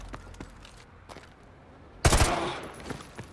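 A single sharp rifle shot at a fleeing target's legs in Modern Warfare 2, a sudden loud crack with a short echoing tail, following quieter scattered in-game noises and footsteps.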